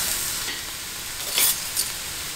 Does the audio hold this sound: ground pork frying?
yes